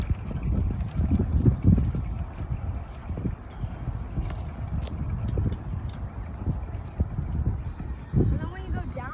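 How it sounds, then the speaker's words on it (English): Strong, gusty wind buffets the microphone during a radio-controlled plane flight on a very windy day, a loud continuous rumble that surges and dips, with a person talking over it. "The wind just gusts"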